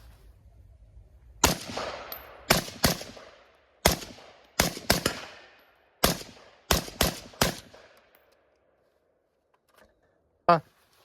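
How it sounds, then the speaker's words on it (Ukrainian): Eleven sharp rifle shots suppressed by an ASE UTRA DUAL556-S-BL silencer crack in uneven bursts at night, each with a short fading tail, followed by quiet and one last faint metallic sound. "Зараз здійсню декілька пострілів по мішенях"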